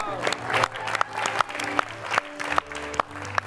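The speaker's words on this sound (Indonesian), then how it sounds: "Boleh berikan tepuk tangan buat Ricardo." A studio audience at the Indonesian dating game show Take Me Out Indonesia claps in steady applause with sharp, evenly spaced accents throughout, over a music bed.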